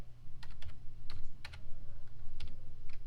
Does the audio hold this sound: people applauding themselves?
no